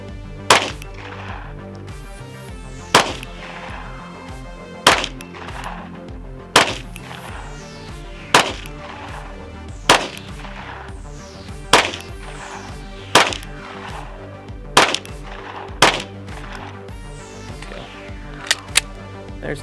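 An FN 509 Tactical pistol with a red dot fired at a 10-yard target: ten sharp, loud single shots at a steady pace about every one and a half seconds, each with a short ringing decay.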